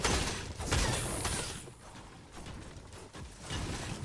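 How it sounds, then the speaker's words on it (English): Rapid bursts of gunfire in a Fortnite battle royale match, sounding as dense crackling volleys that run almost nonstop across the few seconds and swell and fade in loudness, with no talk over them. "Where is this gunfire?"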